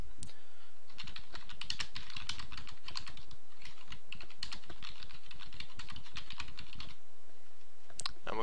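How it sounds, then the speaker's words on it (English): Fast, continuous clatter of typing on a computer keyboard, close and fairly loud, with dense key strikes for about seven seconds and a brief final burst after a pause. "Now what we're going to do is we're going to type some text."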